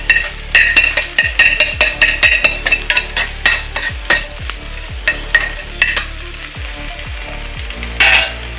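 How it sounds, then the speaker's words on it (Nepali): Boiled noodles are stir-fried in a sizzling pan. A utensil scrapes and knocks against the pan in a quick, uneven rhythm over a constant frying hiss, close and clear, with no talking. "अब हामीले यसलाई यहाँ राखेर चाहिँ मिक्स गर्छौँ, फ्राई गर्छौँ"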